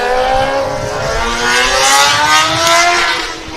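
A loud Formula Student race car engine roars close by during an endurance event, its pitch climbing steadily as it accelerates, with a harsh, continuous drone and no speech.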